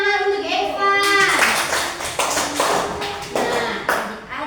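Children in a classroom clap for a classmate after his answer in a math lesson, a quick burst of scattered small-hand claps that follows a voice and fades out unevenly.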